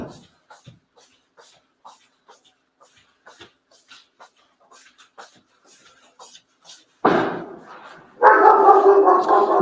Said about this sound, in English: So she'll still bark every time a banger goes off, but you won't be able to hear it so loud.